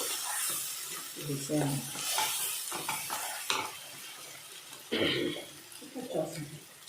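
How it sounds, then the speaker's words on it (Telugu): Onion-tomato masala paste being fried with already fried onions in a pan, sizzling steadily with occasional stirring and utensil scrapes, while a person talks over it nearby. "దీన్ని ఇప్పుడు ఫ్రై అయిన ఉల్లిపాయల్లో వేస్తున్నాము"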